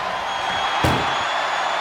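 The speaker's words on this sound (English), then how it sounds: "Pushing with every fiber of their being to slam the door." In the WWE 2K24 video game, an ambulance door is slammed shut to end an ambulance match, a single loud thud over a steady crowd roar.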